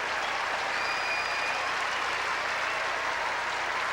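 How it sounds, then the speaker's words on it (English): Tennis crowd at the 2003 US Open applauding Agassi during his match against Ferrero, a dense, steady roar of clapping from a large stadium audience that fills the whole stretch. "Crowd trying to help Agassi"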